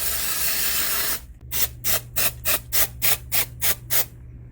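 Nine quick, crisp hissing bursts from a can of Urban Decay All Nighter setting spray, evenly spaced and close, follow a moment of background hiss.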